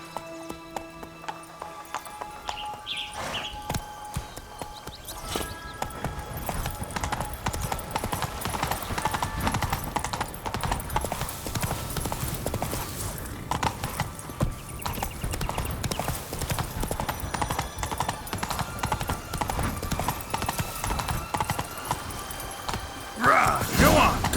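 A horse gallops in The Witcher 3, its hooves drumming in a fast, steady clip-clop rhythm for most of the clip, with a short neigh and shouted commands to the horse near the start and end.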